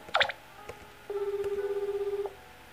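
A phone ringtone sounds in the video game Heartache 101, a steady buzzing electronic tone lasting about a second, preceded by a quick bright chime.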